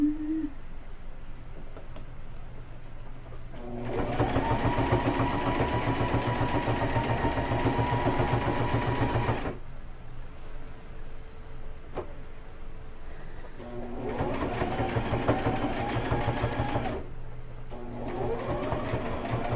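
A sewing machine back stitching through fabric and batting for a casserole carrier, its motor whirring in two sustained runs of several seconds each with quiet gaps between.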